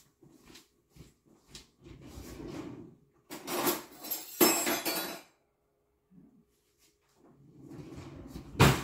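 Rummaging through kitchen drawers for measuring spoons, with clattering metal and glassy clinks, drawers sliding and bursts of jangling utensils separated by short pauses, fairly close and moderately loud.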